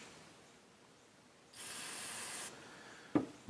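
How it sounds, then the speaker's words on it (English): Contact cleaner from an aerosol can is sprayed onto a balanced audio cable, an Accuphase LC-10A, in a single close, steady hiss lasting about a second. A sharp small click or handling knock follows. "I've got some contact cleaner, so I'm going to try this first"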